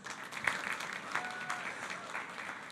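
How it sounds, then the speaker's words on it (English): Scattered applause for a startup team at a food-tech demo day in Israel, fairly faint and thin, with a few sharper claps standing out over a steady patter that lasts a few seconds. "Give them an applause"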